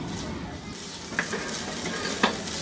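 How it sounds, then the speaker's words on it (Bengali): Flatbread soaked in sauce fries in a pan for Turkish street-food tantuni, giving a steady soft sizzle with a couple of brief metallic scrapes from stirring. "এখন এইটাকে একটু ভাজা ভাজা করে"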